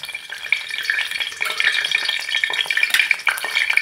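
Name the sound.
tempering spices sizzling in hot oil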